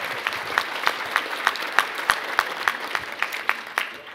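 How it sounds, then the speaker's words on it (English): Audience applause for a conference panel on guardians and nationhood, with a steady patter of many hands clapping at an even, fairly moderate level, with regular sharper peaks, continuing without any talk. "Let's give them another round of applause."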